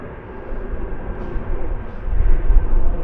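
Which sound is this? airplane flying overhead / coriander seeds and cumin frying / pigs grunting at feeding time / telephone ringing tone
airplane flying overhead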